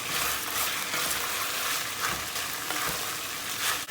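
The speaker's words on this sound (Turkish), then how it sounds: "Domates salçasını attığımız gibi biberleri atıyoruz. Domatesini atıyoruz. Tekrar karıştırıyoruz." Tomato paste, peppers and tomatoes sizzling and frying in a pan for an eggplant dish, with a steady crackle and intermittent scraping as the mixture is stirred, close and continuous.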